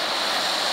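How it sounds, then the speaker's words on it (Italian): River water rushing over small waterfalls beside an old mill, a dense steady hiss of splashing flow heard up close with nothing else over it. "Che naturalmente è bello sentire questo rumore dell'acqua"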